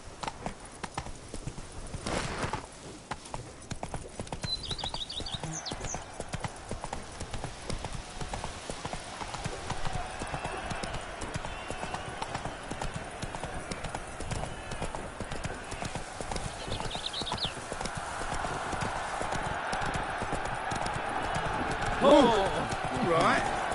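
Roach, the horse in The Witcher 3, gallops with rapid, continuous hoofbeats throughout, close and steady, with a brief whinny partway through and a voice urging the horse on over the rhythm.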